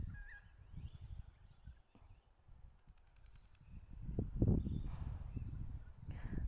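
Pigeons gathered outdoors around scattered food, including pieces of pear, make a low, steady cooing murmur that swells louder and busier toward the end, with no talking.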